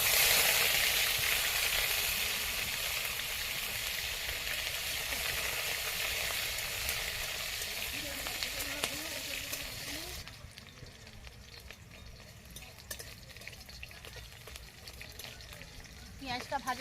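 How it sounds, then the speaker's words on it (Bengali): Chopped onion sizzles and fries in a pan for a Bengali-style fish-head cabbage dish, a loud steady hiss that is strongest early and eases after about ten seconds, with occasional stirring clinks and no talk. "এরপর দিয়ে দিচ্ছি পেঁয়াজ কুচানো"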